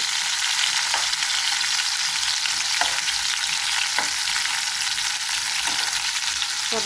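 Peanuts frying in a pan until golden brown, a steady close hiss of oil with a few sharp scrapes of a spoon stirring them at intervals.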